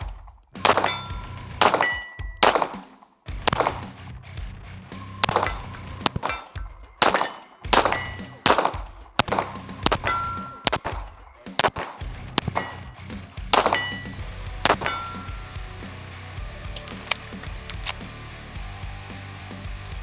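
Rounds fired from a Jacob Grey NOX9 pistol, a series of sharp loud reports at an uneven pace, with metallic clangs ringing after several shots and no voices.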